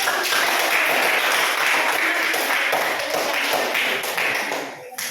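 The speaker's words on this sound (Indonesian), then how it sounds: "Baik, terima kasih. Berikan tepuk" A classroom audience claps for a group presentation, a dense, steady wash of many hands close by, sustained for several seconds before tapering off near the end, with no voices over it.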